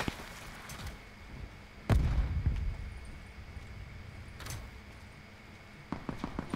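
Gunfire in Call of Duty Blackout on the Alcatraz map: a heavy booming shot near the start, a sharp crack midway, then a quick burst of rapid shots at the end, all close and loud with no talking.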